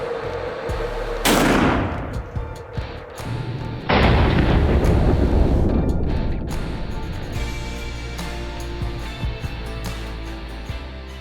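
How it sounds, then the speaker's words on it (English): Two loud shots from a Mossberg 835 Ultimag shotgun loaded with Longbeard XR number 6 turkey shot fire outdoors at a range, each a sharp boom followed by a long rolling echo. "We're going to be shooting the Longbeard XR number 6s."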